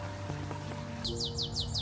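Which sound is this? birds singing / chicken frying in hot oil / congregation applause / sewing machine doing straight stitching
birds singing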